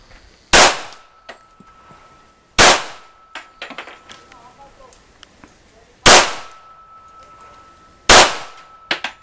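Four loud .45 ACP pistol shots fired at a laptop outdoors, each a sharp crack with a brief decaying echo, spaced a couple of seconds apart, with faint clinks and rustling between them.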